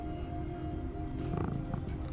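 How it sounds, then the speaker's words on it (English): A fat grey cat sleeping on a dumpster in the video game Tales of the Neon Sea purrs in a low, continuous rumble, with a soft brief swell of added sound near the end. "Oh, listen to it, you can hear it purr."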